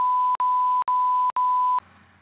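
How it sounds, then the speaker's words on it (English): A loud, steady censor bleep at a single pitch plays alone, broken by three brief gaps into four close segments, then cuts to a faint low hum. "So from now on, I need to beep myself."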